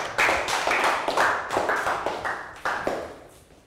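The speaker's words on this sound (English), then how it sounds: "Okay, round of applause." Children in a classroom clap together in a quick, rhythmic run of about eight bursts, close and lively, with no one speaking.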